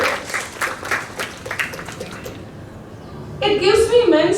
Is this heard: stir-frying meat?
no